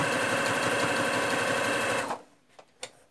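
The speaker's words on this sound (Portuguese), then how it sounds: "E aí, nós vamos passar o zigue-zague na bordinha." Up close, a sewing machine runs steadily at speed, stitching a zigzag along the edge of fabric for a toe sock, then stops abruptly, followed by two small clicks.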